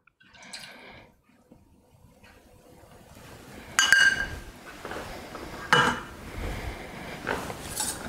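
Pancake batter with vanilla being stirred in a bowl, giving soft scraping and sloshing with a few sharp clinks of the utensil against the bowl's rim, starting quietly and growing busier.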